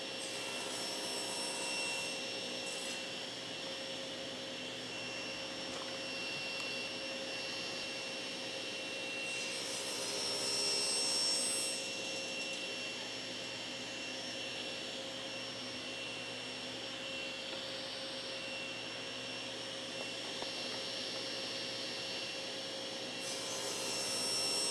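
A saw cuts wood guided by a Harvey MG-36 miter gauge, a steady loud motor whine and roar with slight swells where the blade passes through the workpiece, and no voices.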